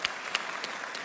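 Applause from a church congregation during a service, a brief, soft patter of clapping with a few sharper individual claps, heard from a distance.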